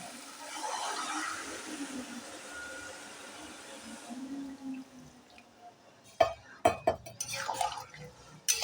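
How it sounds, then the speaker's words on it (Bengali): Hot water is poured into curry masala frying in a pan for an echor (jackfruit) curry, giving quiet sizzling at first and then several sharp splashes and bubbling bursts near the end. "এবার আমি দিয়ে দেব গরম জল।"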